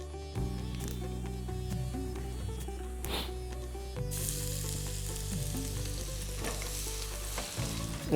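Fennel seeds, cumin, nigella seeds and dried red chillies fry in hot oil for a spicy yam curry, giving a steady crackling sizzle with occasional stirring scrapes and a brief louder burst midway.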